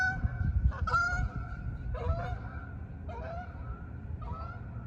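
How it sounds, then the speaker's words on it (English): Canada geese flying overhead honk repeatedly in a loose series of about five calls, clear against a low background rumble, sounding like a flock passing at moderate distance. "That's those noisy Canadian geese going across there."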